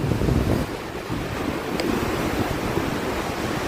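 Ocean waves surge and break steadily on a beach with a dog nearby, a continuous loud wash of surf mixed with gusty wind buffeting the microphone, no voices.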